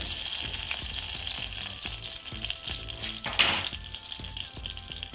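Margarine melted into hot oil sizzling in a pan while making caramel popcorn, a close, continuous crackling fry with small pops and a brief louder burst midway.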